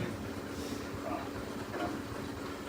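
A washing machine runs in the background of a home gym, a steady low rumbling drone with faint mechanical churning that holds an even, moderate level throughout.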